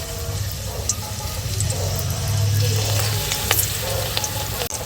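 Ingredients being added to hot herbal hair oil in a pan, a steady frying sizzle with brief clinks and stirring noises, and no talking.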